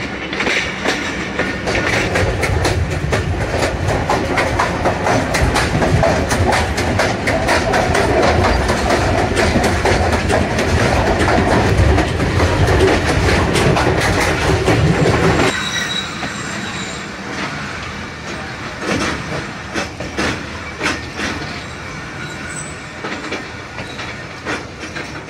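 The Thal Express runs at night through tunnels on its way toward Domel station. Loud rumbling, squealing wheels and clickety-clack fill the first half, then the sound drops noticeably quieter but the train keeps rolling.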